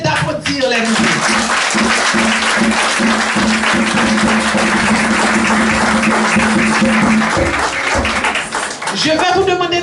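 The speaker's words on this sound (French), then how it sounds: "Je vais demander à cette assemblée d'applaudir les nouveaux." A church congregation claps loudly and continuously for several seconds, dense and sustained, with a voice briefly heard at the start and end.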